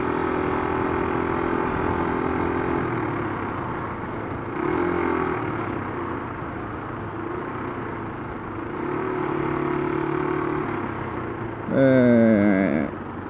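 A Yamaha Fazer 250 motorcycle engine hums steadily while riding, rising and easing with the throttle, with a brief sharp whine near the end.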